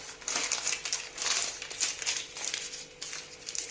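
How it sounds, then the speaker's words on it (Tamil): A lemon is wrapped in newspaper, producing continuous close crinkling and rustling of paper that swells and fades in an uneven rhythm for a few seconds. No voices. "இந்த லெமனை இந்த நியூஸ் பேப்பரில் மடித்து வச்சுக்கோங்க."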